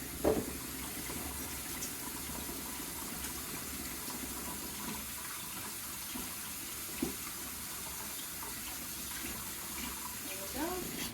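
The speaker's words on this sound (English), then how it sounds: "I'm going to rinse off and wash my hands from the mayonnaise and the cream." Kitchen tap water running steadily into a sink while hands are rinsed of mayonnaise and cream, a constant close hiss with a few splashy bursts as the hands move under the stream.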